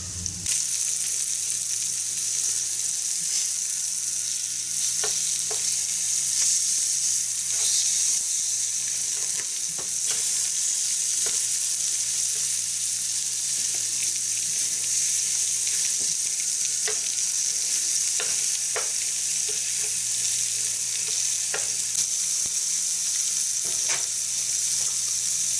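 Liver pieces and onions sautéing and browning in a pan, a steady close sizzle with occasional small pops and scrapes, no talking throughout.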